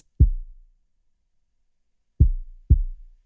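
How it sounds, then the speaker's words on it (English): Lofi kick drum from a sleepy lofi sample drum pack: three deep, soft, muffled thumps, one alone and then a close pair, each decaying quickly into silence with no other instruments. "So after that is the kick pattern."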